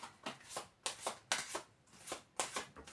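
Tarot cards shuffled and drawn by hand, a close series of quick riffling bursts in a loose, steady rhythm, with no talk over them.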